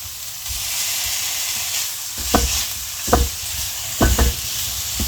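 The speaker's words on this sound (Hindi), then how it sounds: "अब हम इसमें चिकन डाल देंगे।" Chicken and onion sizzle in a pan with a constant frying hiss, while a spoon stirs them in several short scraping bursts, close and fairly loud with no talk.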